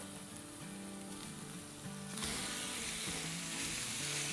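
Half a kilo of minced mutton hits a hot pan with a sudden loud sizzle partway through, the frying hiss swelling and holding steady after a quieter stretch of cooking sounds.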